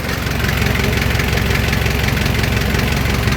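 A car engine idles loud and close, a steady rumbling drone with a rapid even knock that holds unchanged throughout.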